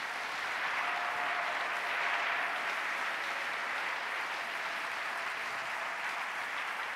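A church congregation applauding together in praise, a steady, even wash of many hands clapping at a moderate distance that carries on without a break.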